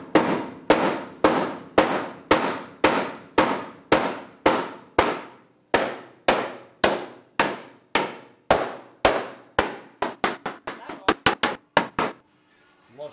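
Heavy hammer blows striking the metal body of a Toyota GR86 during repair, about twenty loud ringing clangs in a steady rhythm, quickening into faster lighter taps near the end.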